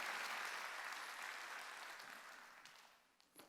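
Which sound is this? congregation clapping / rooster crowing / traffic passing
congregation clapping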